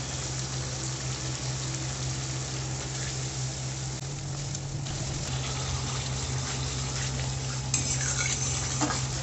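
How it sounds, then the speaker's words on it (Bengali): Spice paste and sour yogurt stir-fried in a pan, with a continuous sizzle and the scrape of a spoon stirring throughout. "মশলাটাকে ভালো করে কষবো এবার"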